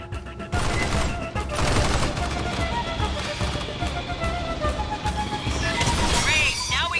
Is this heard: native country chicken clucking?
no